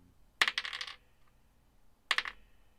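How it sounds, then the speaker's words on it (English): Dice tossed onto a kitchen counter during a Dungeons & Dragons 5e tabletop session: two separate rolls, each a sharp clattering impact followed by quick rattling bounces and settling, close and fairly quiet, with no talk. "when he wants us to hear the dice rolls, he throws on the counter instead of his phone mat"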